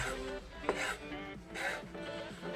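Knife chopping salad ingredients with fried chicken, vegetables and eggs, with quiet soft rhythmic rubbing cuts on a board and one faint sharper tap.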